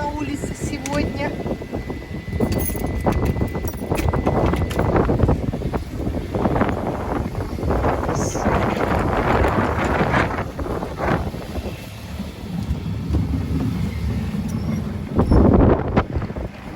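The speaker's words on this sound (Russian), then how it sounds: "Ой, какой ветер на улице сегодня!" Strong wind gusting outdoors on the first day of spring, with frost and snow, roaring steadily against the microphone throughout while a person talks over it.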